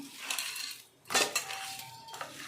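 A spoon mixing black-eyed pea vada batter with a spoonful of rice flour in a bowl: two short bursts of clinking and scraping, close and fairly quiet, with a brief pause between them.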